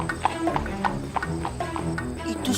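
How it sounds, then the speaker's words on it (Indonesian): Horse hooves clip-clopping in a legend story, a quick irregular run of sharp hollow knocks close by, with a short vocal sound layered among the steps. "Itu suara kaki kuda."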